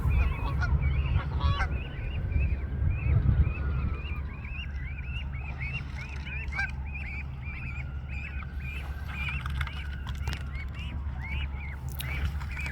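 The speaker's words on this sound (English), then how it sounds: "when a gosling gets separated from its adult, it just cries out and the adult will answer" Repeated high-pitched cries of separated Canada goose goslings, a steady series of short calls over a low constant rumble of flowing water or wind, with occasional louder peaks.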